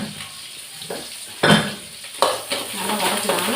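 Ingredients for a potato kootu sizzling in a pan as they are sautéed, with bursts of stirring and a spoon scraping against the metal, close and fairly loud, with no voices.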